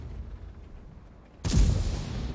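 A tank cannon fires in World of Tanks, a single loud, sudden boom breaking a quiet stretch of low rumbling ambience and leaving a heavy roar that lingers to the end.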